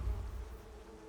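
Bees buzz in the survival video game Icarus, a close, low droning hum that is loudest at first and then settles into a steady, slightly fading whine, with no talk.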